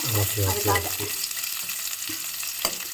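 Chopped onions crackle and sizzle steadily in hot oil in a Tamil home kitchen, with a few spoon scrapes and taps against the pan over a constant frying hiss.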